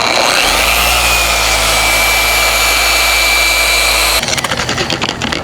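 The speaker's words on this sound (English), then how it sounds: "I'm going to continue buffing on this area to see if I can remove a few more of these scratches on the fender" An electric polisher buffs scratches out of car fender paint, giving a loud steady whine that holds for about four seconds before cutting off abruptly into a rougher, uneven tail.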